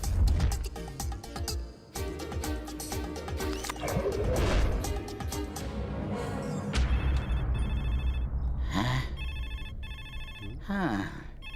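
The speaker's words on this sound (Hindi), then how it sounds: "इन्हें तो फोन भी सुनाई नहीं दे रहा है।" A telephone rings in a Hindi-dubbed comedy film scene, repeated electronic ring bursts in the second half following louder clattering and scene noise.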